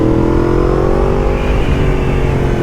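Yamaha MT10 with a loud Akrapovic exhaust, throttle released and engine note easing off steadily, close and loud with no backfire pops.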